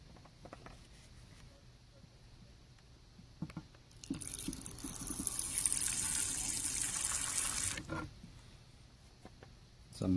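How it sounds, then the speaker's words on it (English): Water poured while watering a tarantula enclosure, a broad splashing stream running steadily for about four seconds mid-clip, fairly close, with quiet room sound before and after. "some watering noise for you"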